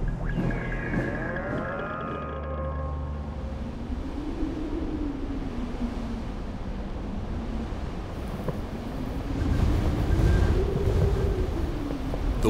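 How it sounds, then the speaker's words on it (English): Strong wind blows over Arctic sea ice, a continuous roaring rush that swells louder toward the end, with a brief tonal whine near the start. "The wind on the ice has become stronger, and Eugene Brower is not taking any chances"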